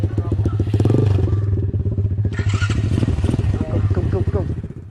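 A motorcycle with a loud exhaust accelerates hard, its engine note rising in a rapid, rasping pulse and then revving again, close and dominant, with a voice briefly audible underneath.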